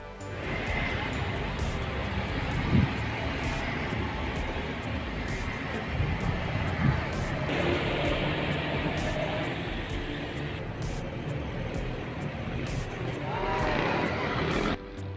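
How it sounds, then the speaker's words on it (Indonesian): Buses on the Aceh–Medan road pass by outdoors, including a new Harapan Indah coach and a Cahaya Kembar Jaya bus, their steady engine and road roar filling the scene with a louder surge toward the end. "Ini juga bus lewat di lintas ini itu ataupun di jalur ini."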